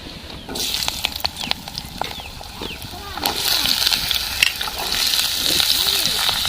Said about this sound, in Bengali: এই আলুগুলো আমি এখন ভেজে নেব কড়াইটার মধ্যে আমি সরষার তেল দিয়ে দিচ্ছি দিয়ে আলুগুলো ভেজে নেব